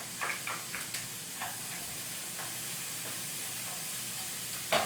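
Onions and celery sauté in a pan with a steady soft sizzle and hiss, broken by a few light scrapes and stirring clinks, with no one talking.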